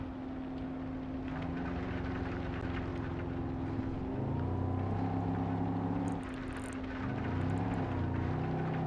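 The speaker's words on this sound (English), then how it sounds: "The engine's trying, but you could almost tell this thing's overheated. The head gaskets are gone. Oh, there we go. We have rod knock." An overheated engine with blown head gaskets and rod knock in a Gavril Bluebuck 291 Marshal in BeamNG.drive makes a continuous rough, rumbling drone that shifts in pitch as it strains.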